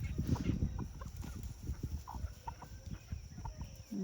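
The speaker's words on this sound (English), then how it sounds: "Look at all my little ducks." Farm ducks calling and clucking nearby in a late-spring barnyard, a busy run of short quacks and chatter at moderate volume with no talk over it.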